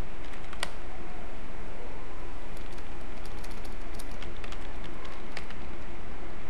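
Steady typing on a computer keyboard during database form entry in MS Access, dense rapid clicking running continuously and fairly close over a constant background hiss, no talk.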